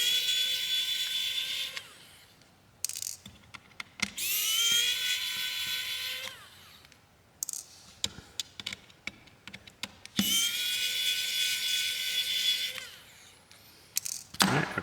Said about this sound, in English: let's take these couple screws out that are in here